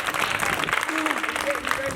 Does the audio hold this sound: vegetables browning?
no